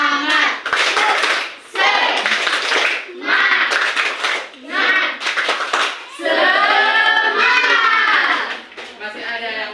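Children in a classroom clapping and chanting together in short rhythmic bursts of a spirit clap, voices and claps loud and close with brief pauses between phrases.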